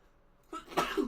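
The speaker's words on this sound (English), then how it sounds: "there was that sneeze from earlier" A single short, soft sneeze, faint and close, after near silence, during a street stock race broadcast.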